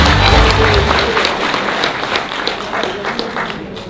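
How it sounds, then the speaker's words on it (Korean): A crowd at a citizens' lecture hall gives dense, loud applause that gradually thins out over a few seconds, with a voice faintly underneath. "여러분 다시 한번 큰 박수 부탁드립니다"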